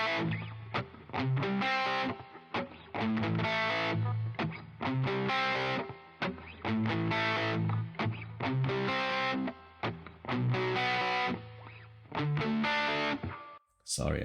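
An electric guitar plays through a Donner distortion pedal with every knob at 12 o'clock, loud crunchy driven chords and riffs in bursts with short pauses, ending in a brief lull.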